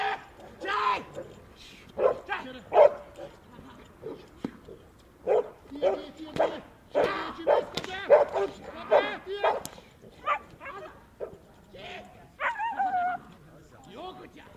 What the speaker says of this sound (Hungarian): Jó kutyák!